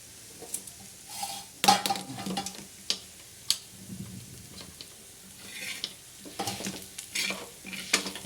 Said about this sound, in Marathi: बघा कसा खरपूस मसाला भाजतोय हे आपला बोकड्याच्या मटणाचा काळा मसाला तयार करते